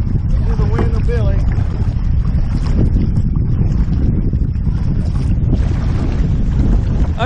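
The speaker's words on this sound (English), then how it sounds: "we are having to fight the wind" Strong wind buffeting the microphone during a kayak trip on a river near Burgess Falls, a constant loud rumbling roar with people talking underneath.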